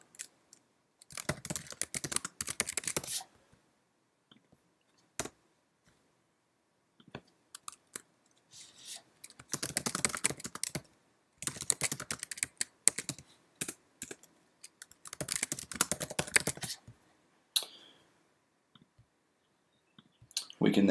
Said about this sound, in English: We'll type in some data here